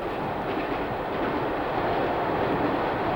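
A British Rail InterCity 125 high-speed train running, a steady loud broadband roar and rush with a faint rhythmic rail clatter throughout, heard close and continuous.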